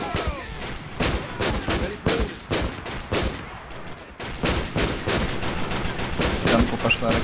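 Tank cannon and gunfire in the Men of War Assault Squad 2 video game, Cold War mod: dense, repeated bursts of shots and heavy blasts crowd the battle almost nonstop, with faint voices now and then.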